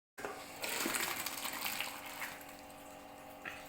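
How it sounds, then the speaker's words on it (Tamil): Hot water is drained off boiled pasta through a strainer, a sudden close gush that swells and then settles into a steady rushing pour, with no talking. "தண்ணி வடித்து எடுத்துக்கலாம்."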